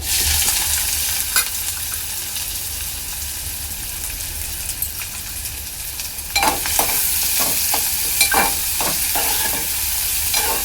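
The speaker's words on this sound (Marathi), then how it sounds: "तेल चांगलं गरम झालेलं आहे। यामध्ये मी टाकणार आहे थोडंसं 2 ते 3 पाकळ्या लसूण ठेचलेला आणि बारीक चिरलेला कांदा" Crushed garlic cloves and finely chopped onion fry in hot oil with a continuous bright sizzle, and a burst of stirring scrapes and clatter near the end.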